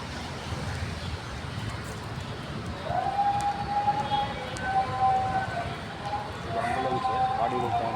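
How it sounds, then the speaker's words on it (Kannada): An ambulance siren sounds at Harishchandra Ghat, a cremation ground, rising in as a steady wailing tone about halfway through over a rough outdoor background with wind and voices. "ಆಂಬುಲೆನ್ಸ್ ಗಾಡಿಗಳು ತಗೊಂಡ್ಬರೋದು."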